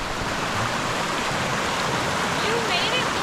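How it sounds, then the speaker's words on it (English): A high, swollen river roars at a crossing on a Southern California waterfall hike, a loud, steady broadband rush filling the whole clip, with a faint voice briefly audible near the end. "the river is high and roaring"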